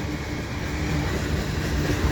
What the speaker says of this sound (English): And this may be an oil train.